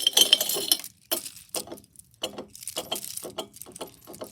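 Loose beads from a jewelry jar clink and rattle in repeated bright bursts, close and fairly loud, with short pauses between handfuls.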